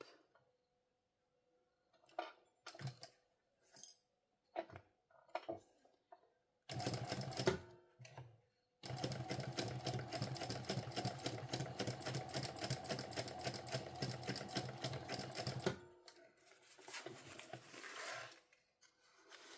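Nearby, a sewing machine back-stitches and overlaps a seam on a sling pouch, with short bursts and clicks first, then a sustained rhythmic stitching run for several seconds, followed by handling noises.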